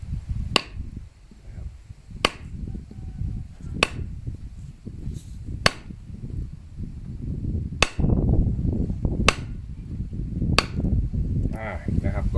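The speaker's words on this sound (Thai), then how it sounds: "นำค้อนมาทุบ แล้วก็ตัดนะครับก็ออกแรงทุบลงไป" Sharp metallic strikes of a hammer on an axe back cutting steel cable, about seven spaced blows, close and loud over a low, rumbling background.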